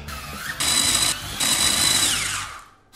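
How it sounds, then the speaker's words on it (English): A loud electric motor whirs in two strong bursts with a brief dip between, a close blender grinding stale white bread into breadcrumbs, winding down at the end. "You do actually own a blender."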